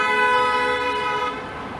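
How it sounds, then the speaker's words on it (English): A BMW's car horn blares in one sustained honk as the driver overtakes at a confusing Toronto intersection on Yonge Street, loud and near over faint traffic. "One impatient Beamer driver honking and overtaking another one who's just being careful."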